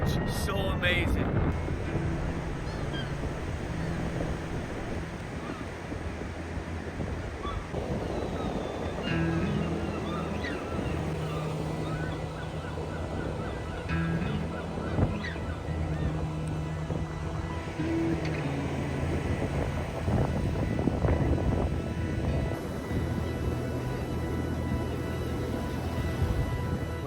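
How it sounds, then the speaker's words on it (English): Strong wind buffeting the microphone on an empty island beach, a continuous loud rumble and roar with surf in the background, while a person speaks through much of it. "super windy, so you're not getting great audio right now"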